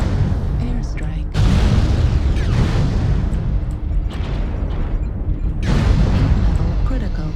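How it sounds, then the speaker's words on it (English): Airstrike explosions in the MechWarrior Online video game, a dense run of loud, booming blasts and rumbling impacts that swell and fade, with a brief lull before a fresh heavy burst near the end. "Airstrike."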